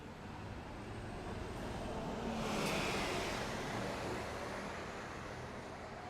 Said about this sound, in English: Oh, this car's trying to park.